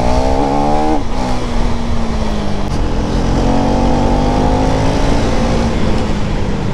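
A tuned lightweight motorcycle with a quickshifter accelerates hard, its engine note loud and close, dropping briefly at a gear change about a second in, then climbing steadily again with no talk.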